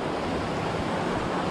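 A mountain stream in the Ossola valley rushes steadily nearby, a loud, dense, unbroken roar of flowing water with no voices.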